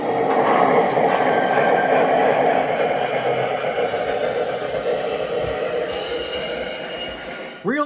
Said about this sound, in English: The first one is wheel slip. Ever seen a triplex do a burnout?